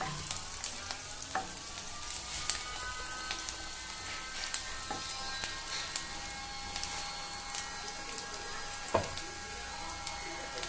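Onions and curry leaves fry in hot oil, giving a steady close sizzle with scattered pops and light stirring clicks throughout, and no talking.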